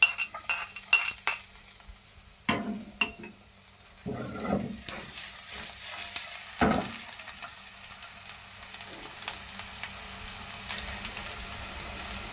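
Garlic sizzles steadily in oil in a pan while a spoon clinks and scrapes against the metal, with a few sharper knocks early on.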